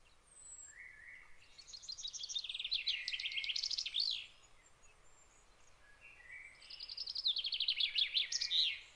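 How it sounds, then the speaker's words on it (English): A chaffinch sings two clear phrases, each a bright run of notes stepping down in pitch and ending in a quick flourish, with a short gap between them against a quiet background. "this is the song of the chaffinch"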